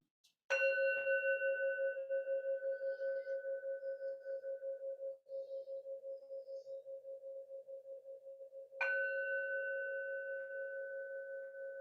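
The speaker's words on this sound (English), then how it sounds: "So as we settle in, hearing the bell." A meditation bell rings twice in a quiet room, each clear metallic strike followed by a long, slowly fading, gently wavering tone, with about eight seconds between the strikes.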